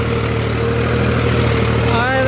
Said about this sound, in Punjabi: ਫਿਰ ਤੁਸੀਂ ਹੁਣ ਟਰੈਕਟਰ ਦਾ ਨਿਜ਼ਾਮ ਦੇਖੋ ਚੱਲਦਾ